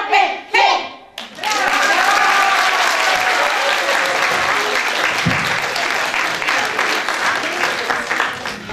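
An audience at a folk concert for a community cultural centre's 80th anniversary breaks into loud, sustained applause after a short pause, dense and close, with a voice speaking briefly at the start.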